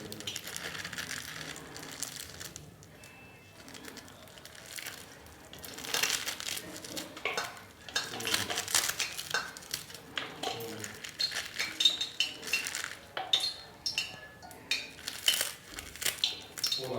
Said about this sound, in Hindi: तो पालक को पहले काट लेंगे।